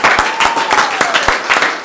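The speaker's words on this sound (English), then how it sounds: "Round of applause" Loud applause at a county board meeting honoring a long-serving employee, many hands clapping steadily up close in an indoor room, with a faint voice or tone drifting underneath.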